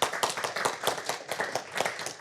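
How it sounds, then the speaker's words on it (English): A round of applause for the support staff at a quality summit, clapping from a modest audience with sharp, irregular claps rising and falling for a couple of seconds, fairly close and without talk. "Let's give them a round of applause."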